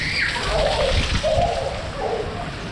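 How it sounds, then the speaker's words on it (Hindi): Water from a roof drain spout gushes and splashes steadily onto the ground nearby, a continuous sloshing stream over rain. "अभी परनाला भी ये देखने बहुत तेज़ हो गया।"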